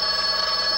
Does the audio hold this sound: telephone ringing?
yes